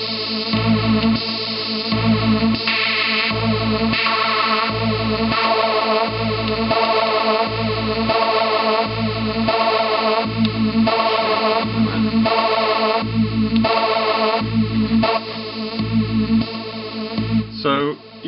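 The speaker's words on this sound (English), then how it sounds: "if you start bringing up the peak of the low frame, it's going to distort" Heavily processed, distorted synth loop pulses in a steady rhythm, an E-mu peak/shelf morph filter sweeping over it with its peak raised high, giving a gritty, saturated edge throughout.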